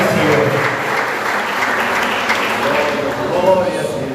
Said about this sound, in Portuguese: Aplauda o Senhor, igreja.